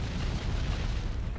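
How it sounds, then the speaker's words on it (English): A continuous, dense rumbling blast from an explosion in the side-scrolling video game Full Bore, heavy in the low end and sustained at a steady loud level. "Oh, I can explode this and ride it upwards if I'm clever."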